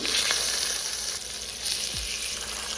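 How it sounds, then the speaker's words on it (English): Beef short ribs searing meat side down in hot oil in a Dutch oven, a loud, steady close sizzle and crackle with a brief low knock of the pot partway through, no talking. "To a large pot or Dutch oven, I'm going to add some oil, and then we're going to add the short ribs, meat side down."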